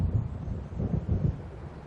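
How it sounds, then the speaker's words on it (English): Low rolling thunder from an approaching storm in the video game Alan Wake, a deep rumble swelling and fading in slow waves beneath a windy roar, with no talking. "It seems there's a storm coming."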